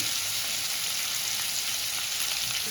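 Tomato frying in a pan with salt and chili, giving a steady, close, even sizzle that holds without pause throughout, with no talk.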